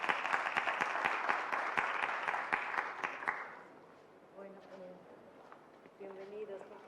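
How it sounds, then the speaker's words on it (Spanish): An audience gives a round of applause to welcome panelists at a conference event, dense clapping for a few seconds that fades out as a voice speaks over the end. "vamos a pedir un fuerte aplauso para los panelistas que se suman"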